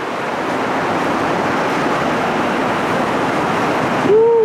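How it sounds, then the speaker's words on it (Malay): Steady, dense rushing hiss of heavy rain pouring down at a campsite on the peak of Fraser's Hill, continuous and loud throughout, with a brief tonal sound near the end. "Dah lah sejuk, hujan pula. Lebat pula tu."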